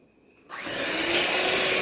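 An electric mixer starts abruptly and runs with a loud, steady whir while beating banana bread batter, close up and continuous with a faint tonal hum.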